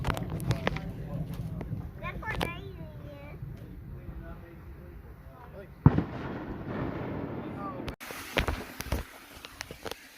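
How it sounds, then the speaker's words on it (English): Fireworks going off at night near a hostel, scattered sharp bangs and crackling bursts at a distance, with a louder pop partway through and voices of adults and children talking throughout. "watching fireworks at the hostel"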